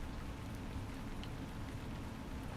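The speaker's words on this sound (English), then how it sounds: "Oh, it's raining now." Steady rain falls in the fantasy game Lord of the Rings Online, a constant soft hiss and patter that stays even and moderately quiet for the whole stretch, with no voices or other sounds.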